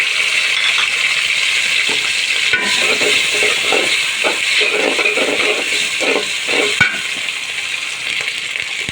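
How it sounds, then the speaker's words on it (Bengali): Ginger garlic paste hitting hot oil with fried onions, a loud, steady sizzle filling the whole stretch with occasional sharp clinks of a spoon against the pan. "আদা রসুনটা দিয়ে দিলাম"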